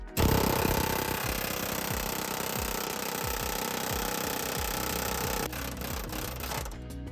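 A pneumatic air hammer pounds continuously and loudly up close while punching out a rusted body mount bolt on a Ford E-350/E-250 Econoline van, rapid steady hammering that shifts pitch toward the end.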